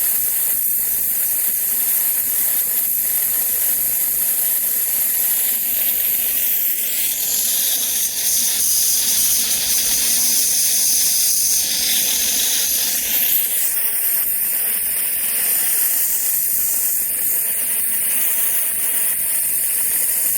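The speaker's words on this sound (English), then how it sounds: "You can see the last sprinkler is still spraying a steady stream." Loud, continuous hissing spray of compressed air and water blowing out of an underground lawn sprinkler head during winterizing, shifting in pitch a couple of times as the flow changes, with no voices.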